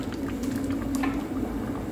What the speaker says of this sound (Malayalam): ഇതിനകത്ത് ഇനി കോക്കറും മിൽക്ക് പൗഡറും നന്നായിട്ട് തിളച്ച് വരുന്നുണ്ട്